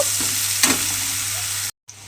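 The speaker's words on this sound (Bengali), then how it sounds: "বেগুনটা একটু এইভাবে উল্টে পাল্টে লাল লাল করে প্রথমে ভেজে নেব" Eggplant frying in hot oil in a pan, a loud, steady sizzle with a couple of brief scraping stirs as the pieces are turned, ending in a short gap.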